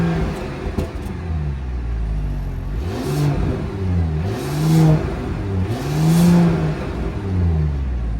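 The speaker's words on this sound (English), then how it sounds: "that was the sound of the 3-liter turbocharged inline 6-cylinder engine with a mild hybrid system" A 2024 Mercedes-Benz GLS 450 with a 3-liter turbocharged inline six and mild hybrid system revs from a steady idle in three rising and falling sweeps, loud and close.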